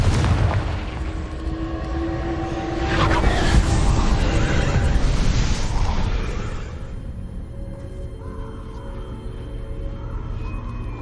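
A Confringo fire spell blast in the Hogwarts Legacy video game, heard as a dense, roaring burst of crackling fire and booms that swells and holds for several seconds, then fades into a quieter tonal hum.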